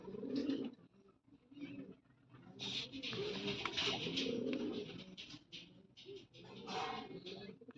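Pigeons coo in repeated low, throaty rolls, close by, mixed with rustling and fluttering noise and bursts of brighter hiss.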